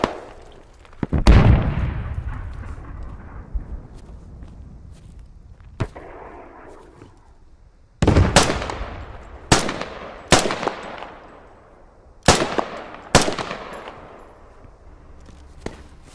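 Gunfire in the military shooter game Squad: sharp, loud individual shots and short bursts cracking at irregular intervals, some close with long decaying echoes, with quiet gaps between.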